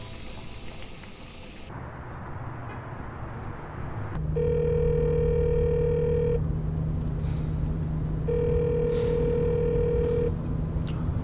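A telephone rings repeatedly without being answered, two long electronic ringing tones separated by a pause, heard over a steady background hum.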